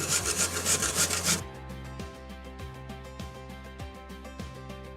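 Unpeeled carrots scraped over a grater, a loud dense burst of rasping first, then quieter steady rhythmic strokes, close up with no talking.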